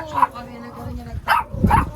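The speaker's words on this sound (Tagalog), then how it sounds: "Oh, ang daming aso." Several dogs bark in short bursts, a couple of yips rising over a background of voices talking nearby.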